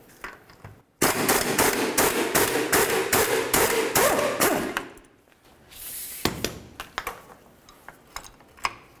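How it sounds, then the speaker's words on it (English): Rapid hammering on the lower control arm of a 2006-12 Ford Fusion, a fast flurry of loud metallic clanks for about four seconds, then a pause and a few scattered, lighter knocks and taps nearby. "let's go ahead and give this a couple loving bonks to break it free"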